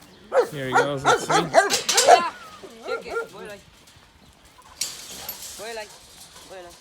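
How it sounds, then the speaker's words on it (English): Farm watchdogs in Mitzpe Yericho bark excitedly at feeding time, a quick burst of loud, close barks and yips followed by scattered whimpers, while someone talks over and between them. "You can hear them barking."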